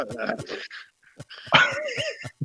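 A dog whimpering and making small yips close by, mixed with breathy sounds and human talk.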